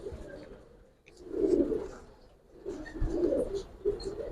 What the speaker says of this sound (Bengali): দেখাই সিলভার কবুতর